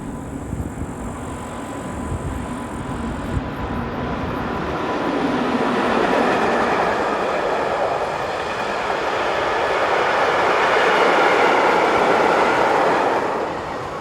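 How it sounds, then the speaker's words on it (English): A freight train hauled by a class 1144 electric locomotive heading west, passing close by with a steady rising rumble and rattle of wagons that swells, holds, then begins fading, with no voices. "we see 1144082 heading west with this freight"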